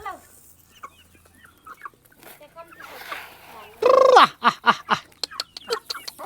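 Free-range local village chickens in Ilam, Nepal, cluck and squawk loudly in quick bursts while fed a rice and husk mix, with a person calling to them in between.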